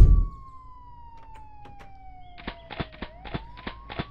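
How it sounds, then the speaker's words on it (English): A police siren in a video game, Springlock, wails faintly with a falling tone, then sharp rhythmic clicks and taps join in, all at a distance and fairly quiet. "Do I hear police sirens?"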